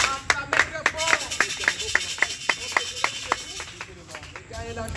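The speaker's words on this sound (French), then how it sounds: "Acclamez pour la parole de Dieu." Church congregation clapping in steady, regular beats, moderately close, with a distant voice and music continuing underneath.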